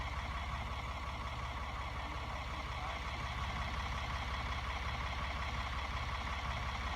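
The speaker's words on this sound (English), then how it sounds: "Let the old tractor sit there and warm up and loosen up real good before we get started." An old farm tractor sits idling to warm up on a winter day with snow on the ground, a low steady engine drone holding faint and unchanging throughout.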